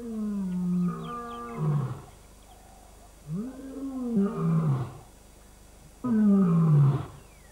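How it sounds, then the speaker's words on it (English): Lion roaring on the African savanna at Etosha: a series of deep, grunting roars in three loud bursts separated by brief pauses, heard fairly close. "scent marking is reinforced by roaring, which can be heard for miles."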